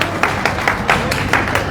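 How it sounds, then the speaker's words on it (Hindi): An audience at a Parshuram Jayanti celebration applauding to welcome guests, with a few distinct claps standing out above a loud, steady wash of crowd noise. "एक बार जोरदार तालियां बजाकर इनका स्वागत करेंगे हम लोग"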